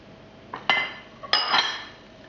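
Butter drops into a metal mixer bowl for a Battenberg cake, two clattering clinks a moment apart, close and fairly loud against a quiet kitchen background.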